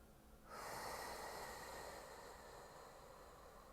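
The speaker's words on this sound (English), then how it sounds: "another nice deep breath in" A deep breath during a guided meditation swells in suddenly after a short quiet moment, then holds as a soft, airy, sustained rush of breathing, close and quiet, with no speech.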